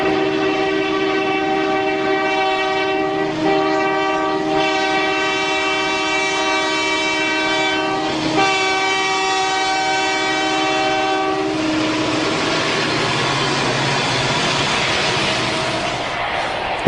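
A westbound train with a Soo Line SD60 locomotive in its consist sounds a long, loud horn in several sustained blasts with short breaks, then rumbles and rattles past on the Cascade line.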